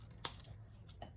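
A single quick scissor snip trims paper for a memory planner page, close and brief in a quiet room.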